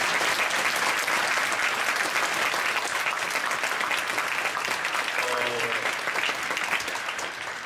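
A church congregation at a Friday night service breaks into loud, sustained applause, dense clapping from many hands filling the room for several seconds before slowly tapering, with a brief voice underneath.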